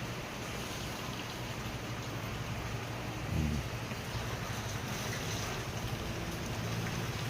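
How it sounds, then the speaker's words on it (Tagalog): Steady rain pours without pause during Typhoon Nando, a dense broadband hiss that fills the whole scene at a constant level, with a brief low thump partway through and no voices. "Walang tigil ang ulan dito mga kaibigan."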